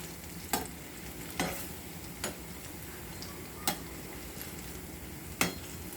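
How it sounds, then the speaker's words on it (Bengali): Banana pitha (kola pitha) frying in oil in a pan, a soft steady sizzle broken by five or six sharp ticking clicks spaced a second or so apart, quiet and close, no talking. "এখন আমি হালকা আছে এগুলো ভেজে নিচ্ছি"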